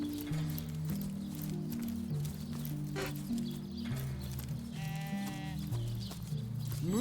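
A sheep bleats in the video game Divinity: Original Sin, with a short wavering bleat near the end over a continuous bed of game music and ambient sound.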